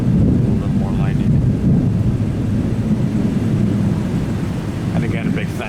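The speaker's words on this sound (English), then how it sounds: "A little more lightning." Low rolling thunder from lightning near Tampa International Airport, a sustained deep rumble with wind noise throughout and a few faint higher tones near the end.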